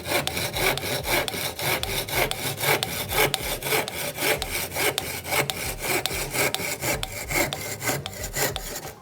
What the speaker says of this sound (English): good grip onto the tenon saw, and then I'm just going to draw back once, twice, and 3 times in that V groove there